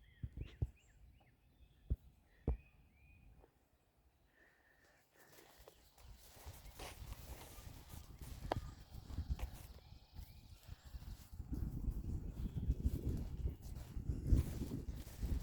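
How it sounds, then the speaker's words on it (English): Horses on a fenced rural property clip-clop faintly, with a few sharp hoof knocks early on, then shuffling movement and rustling grow closer and louder. "There's Annabelle's horse."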